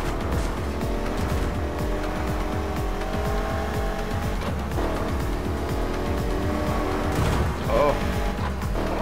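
A Ford Mustang muscle car races through tight bends in the Need for Speed video game, its engine revving and shifting loudly as tires squeal and skid in repeated bursts.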